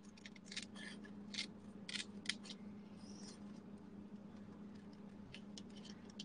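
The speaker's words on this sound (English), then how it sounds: "Okay, so I'm just going to take my scissors" Scissors snip through paper during scrapbooking, several quick crisp cuts in an uneven rhythm, close but soft over a low steady room hum, with no talking.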